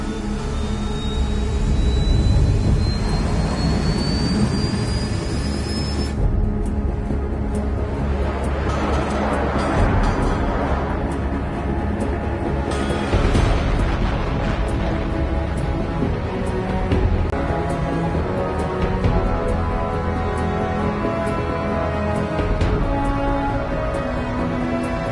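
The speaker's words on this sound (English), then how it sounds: "All this plane could do was take off, accelerate, and fly up." A jet plane in Ace Combat 7 takes off and accelerates: a rising engine whine climbs over a loud, steady roar that holds close and constant throughout.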